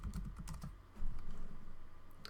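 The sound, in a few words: typing on a computer keyboard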